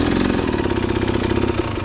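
A KTM 300 XC two-stroke dirt bike engine runs close by at a loud, steady idle with a rapid, rattling pulse and no speech.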